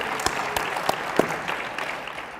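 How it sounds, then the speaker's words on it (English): A university audience applauds a speech by the Governor of Michigan, a steady wash of clapping with a few distinct sharp claps over about two seconds. "I'm glad I got some applause for that one"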